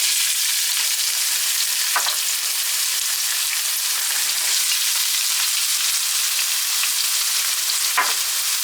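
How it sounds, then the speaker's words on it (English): Onions sautéing in hot grease for a ground beef enchilada casserole give off a steady, close sizzle, with a few sharper crackles and pops breaking through. No one speaks. "Then I'm going to saute my onions."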